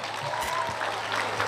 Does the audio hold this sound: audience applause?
yes